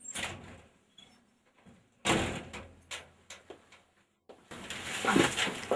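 A door opening and closing as a visitor comes into a room, with a sharp thud, a few knocks and bumps, then a busier stretch of movement noise, all fairly close and with no talk.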